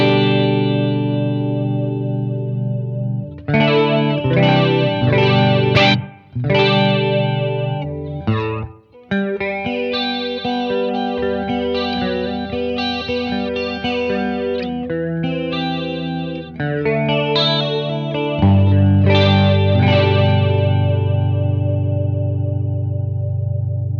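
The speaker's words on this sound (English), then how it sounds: "So let's try out this chorus." A clean electric guitar through a Blackstar Amped 2 with a shimmering chorus effect plays chords and melodic lines, loud and close, with a few short pauses between phrases.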